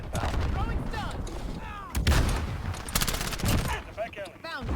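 MP7 submachine gun fired from the hip in Modern Warfare 2019, with rapid bursts of loud automatic gunfire and sharp cracks across a few seconds, mixed with game effects and a voice talking over it.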